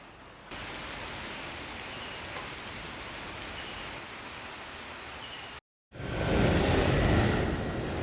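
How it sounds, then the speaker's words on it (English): Torrential rain pours down in Bali as a dense, steady hiss of a heavy downpour. It breaks off for a moment and then returns louder and fuller. "we experienced torrential rain."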